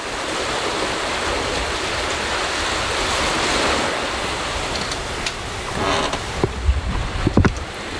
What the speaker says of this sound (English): The wind's picked up nicely from behind.